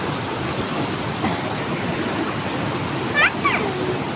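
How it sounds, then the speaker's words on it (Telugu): Water spills over a small village pond weir in a constant broadband rush, close and steady, with a brief faint voice near the end. "మొన్న మత్తడి దుంకలేదు కాబట్టి ఇప్పుడు దుంకుతుంది"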